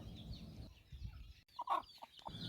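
A hen clucks in short bursts at close range in a backyard coop, with low rustling and thumping as she jumps behind the other chickens.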